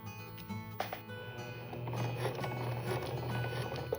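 A home sewing machine stitches quilt binding at a half-inch seam allowance, a steady mechanical whir and rapid needle ticking that runs continuously at moderate level after a few brief starts.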